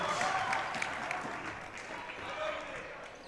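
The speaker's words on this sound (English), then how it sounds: "The teammates cheering on number 5, Edu Mo." In a gym at a boys' high school volleyball match, teammates clap and cheer in a scattered, lively burst, heard under a commentator's steady play-by-play.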